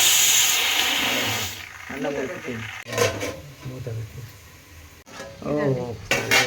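Vegetables such as pumpkin, drumstick and bottle gourd fry in oil with a steady sizzle and hiss while a utensil stirs the pan now and then. Someone talks over the cooking.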